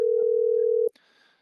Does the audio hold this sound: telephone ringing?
yes